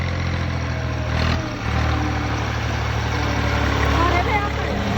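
A tractor engine idles in a village setting with a steady, loud low rumble that dips briefly and then continues.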